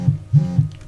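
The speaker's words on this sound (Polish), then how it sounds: "Dostałem SMS-a." A phone vibrating with an incoming SMS, three short buzzing pulses in quick succession, close and loud with a low throbbing hum.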